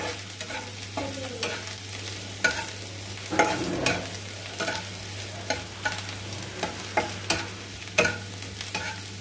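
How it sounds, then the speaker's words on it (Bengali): Onions fry over a raised gas flame, sizzling with a constant hiss while a utensil stirs and scrapes the pan in repeated irregular knocks and scratches, close and fairly loud. "একটু বাদামি বাদামি করে ভেজে নেব। গ্যাসের আঁচটা এখন আমি একটু বাড়িয়ে দিলাম।"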